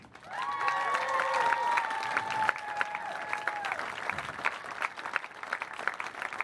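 A crowd at a boys' Class B and A state finals awards ceremony applauds the two finalists, sustained clapping with a few cheers over a fading ringing tone, gradually thinning toward the end.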